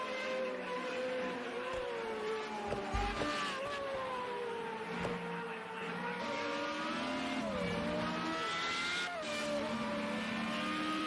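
An FR35 open-wheel race car engine screams at high revs in a racing game, a sustained droning whine with shifting pitch and brief gear-change dips, continuous and loud with no talk.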